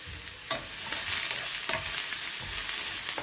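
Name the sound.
stirring shakshuka in a frying pan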